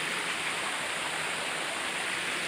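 Natural waterfall behind Pa Sak Jolasid Dam in Thailand, a steady close rushing roar of falling water with an even hiss and no breaks, heard alone without voices.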